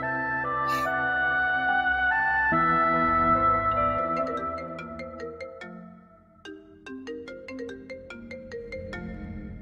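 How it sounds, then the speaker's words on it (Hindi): A melodic electronic phone ringtone plays on its own, a bright repeating tune of chiming notes, loud and close. "सूबिया का फोन।"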